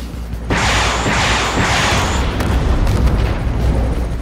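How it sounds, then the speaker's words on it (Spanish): Missiles launching in the video game Sunset Overdrive, a sudden loud rushing blast that swells at once and then rolls on as a steady, dense roar with booming rumble underneath. "¡Ay, dispara misiles!"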